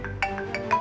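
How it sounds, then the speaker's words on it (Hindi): A phone ringtone plays in a series of short, bright electronic tones, several quick pulses in steady rhythm, loud and close with no voices over it. "उनमें से एक फौजी का फोन आ रहा है"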